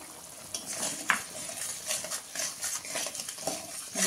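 Spiced duck egg curry being stirred and sautéed in a pan with turmeric and a little sugar, giving soft clinks of a spoon against metal and quiet scraping at an uneven rhythm, close and fairly faint.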